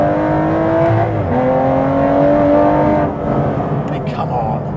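An Aston Martin Vantage with a naturally aspirated V12 revs loudly and close by, its pitch sliding down briefly and then climbing and holding before the revs ease off near the end.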